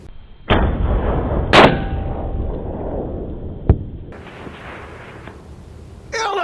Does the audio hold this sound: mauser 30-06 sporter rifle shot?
yes